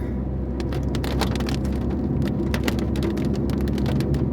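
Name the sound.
rain falling on a road in Wayanad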